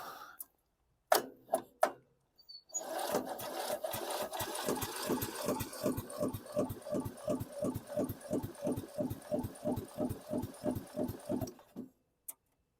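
A 2003 Murray riding mower engine with low cylinder compression starts after a few brief attempts, then chugs in an uneven, rapid rhythmic knock for several seconds before shutting off; close and moderately loud, with no talk.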